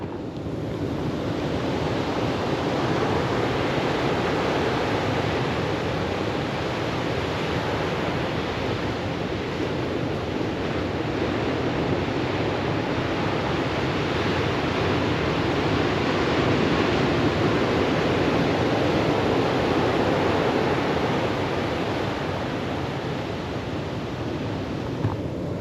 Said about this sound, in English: This one is Salmon Beach, and the old waves and swell down here.